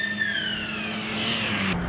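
Porsche 924 race cars at Oulton Park pass by with a loud engine drone that falls in pitch as they go, a continuous close roar that cuts off sharply at the end.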